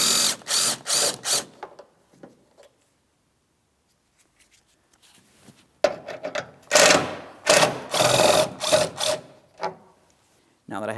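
A ratchet wrench loosens the 10mm mounting bolts across the top of the headlamp assembly on a 2007-2014 GMC Sierra 2500 HD. Quick bursts of close, crisp clicking come in two groups separated by a quiet pause.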